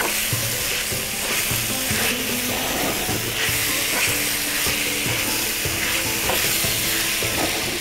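Rice, seafood and vegetables sizzle in oil in a pan for a paella-style dish, with steady loud frying hiss and repeated scraping of the stirring utensil, no voices.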